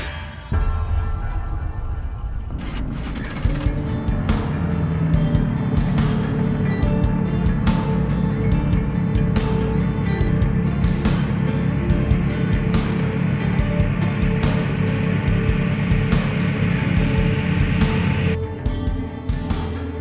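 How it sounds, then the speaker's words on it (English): Two racing cars roar along a plains highway in a video game, their engines a loud, continuous droning whine that holds steady before cutting back near the end. "The roar of 2 cars snaps you back to reality."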